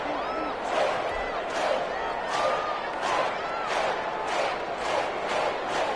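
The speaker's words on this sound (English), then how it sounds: "That just means this crowd's going to get even louder" A stadium crowd in a PS4 American football video game roars steadily, swelling in regular rhythmic waves of cheering that fill the whole stretch.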